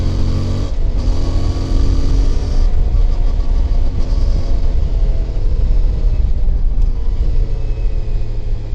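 A motorcycle engine accelerates along a forested country road with a loud, continuous low rumble and heavy wind roar, the engine note rising steadily with no pauses.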